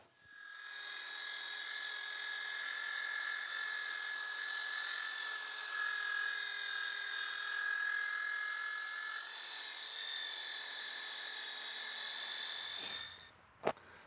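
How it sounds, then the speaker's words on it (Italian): A small electric drill carving a wooden mushroom sculpture whines steadily for a long stretch, its high pitch wavering slightly as it works, then stops abruptly with a brief clunk. "Dai, attacco il trapano."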